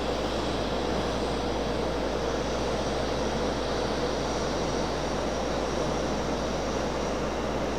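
A small CRJ regional jet at Raleigh Durham International Airport at night, its engines giving a steady, loud, continuous roar throughout with no talking.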